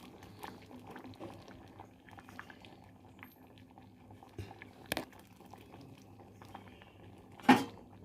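A salted pot with grated coconut boils quietly on a stove, a faint steady bubbling hiss broken by a few soft clicks and a brief louder clatter near the end.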